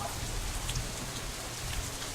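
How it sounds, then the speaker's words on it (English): Rain in the game Katawa Shoujo falls as a soft, steady patter and hiss on surfaces, quiet and continuous with faint scattered drops. "It's like the rain is hugging me."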